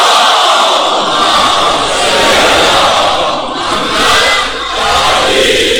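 A large crowd at a religious gathering chants salawat loudly in unison, a dense roar of many voices swelling and dipping together, sustained throughout.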